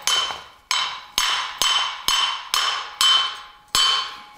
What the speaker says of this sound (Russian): Просто молотком выбил чашку, и стопор улетел куда-то в бездну.